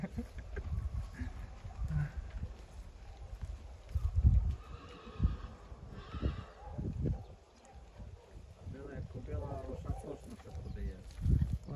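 A Percheron foal whinnies and snorts amid the clatter of hooves, with people talking nearby throughout.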